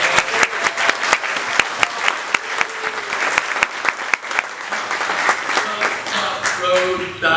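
An audience breaks into steady applause at a keynote address, dense clapping with a few sharp near claps standing out, continuing for several seconds with some voices mixed in.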